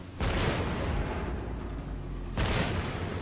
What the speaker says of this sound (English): let's fire another torpedo at this guy